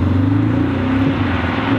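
A Tesla electric car fitted with a simulated exhaust sound set to race mode accelerates hard, giving a steady, loud, droning engine-like tone that holds throughout with no talking.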